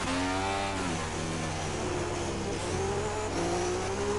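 An open-wheel race car engine in a racing video game revs hard and continuously at high pitch, rising and falling through gear changes, loud and close with no talk.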